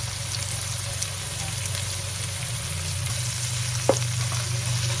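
Onion, garlic and ginger sautéing in a pan for chicken chopsuey give a steady, close sizzle with faint stirring scrapes and one sharp utensil clink near the end, with no talk.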